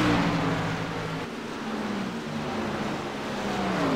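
A race car in a virtual oval racing game drives up pit road, its engine a steady, fairly loud drone that shifts in pitch as it moves along.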